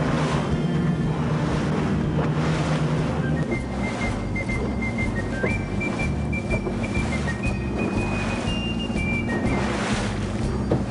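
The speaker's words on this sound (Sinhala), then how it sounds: "තරමක අධිවේගී එන්ජිමක් සහිත බෝට්ටුවක් හින්දා" A high-speed engine boat runs across open sea off Sri Lanka toward a shallow diving area. There is a constant loud roar of wind, water and hull noise, and a thin whistling tone rises in the middle.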